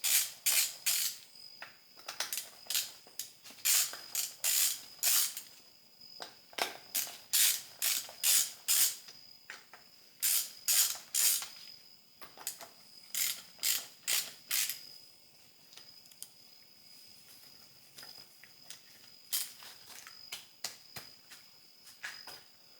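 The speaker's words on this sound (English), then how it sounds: "let's just get some of these bolts loose." A ratchet loosening bolts on a BMW M54 engine during teardown, bursts of rapid close clicking in repeated strokes with brief pauses between, no talking.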